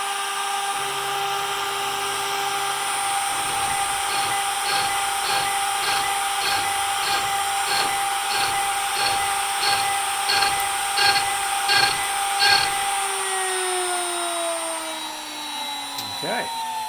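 A drill bores holes into the timber of a CNC-cut Red Special guitar test neck, producing a steady machine whine with a rhythmic series of short cutting pulses, then winding down.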